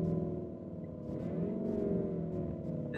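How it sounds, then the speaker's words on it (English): Lamborghini Urus engine revving from inside the cabin, a deep droning growl that rises and swells in pitch and loudness for a couple of seconds before easing, close and steady with no talking. "Hear that thing rev up? Sounds like a full-on race car."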